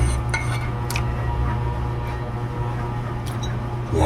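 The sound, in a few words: cooked meat being scooped from a pot into a container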